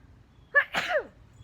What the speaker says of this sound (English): Let's see, I'm gonna sneeze.